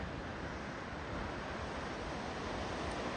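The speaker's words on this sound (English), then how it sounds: "we're gonna go check out this this waterfall" Waterfall close to the road down to Big Sur, heard as a steady, dense roar of falling water, loud and unbroken throughout, with a breathy wind-like wash and no voices.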